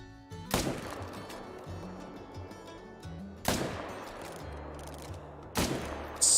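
Three loud, sharp rifle reports spaced a few seconds apart in a deer hunting video game, each an abrupt broadband crack with a short decaying tail over quiet ambience.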